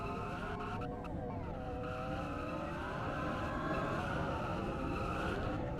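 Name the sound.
race cars doing burnouts in a racing video game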